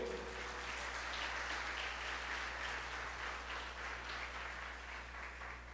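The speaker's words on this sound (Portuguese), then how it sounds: "Você pode aplaudir o Senhor?" A church congregation applauding together, a soft, steady wash of clapping that holds evenly throughout and sounds somewhat distant.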